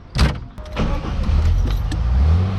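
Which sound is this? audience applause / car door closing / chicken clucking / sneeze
car door closing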